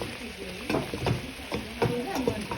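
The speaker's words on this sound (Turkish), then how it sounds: "Patates, havuç, soğan, salça hepsini şöyle kavuruyoruz." Potatoes, carrots, onion and tomato paste sautéing in a pan on a wood stove: a soft sizzle under repeated stirring scrapes at an uneven pace, close by and moderately quiet.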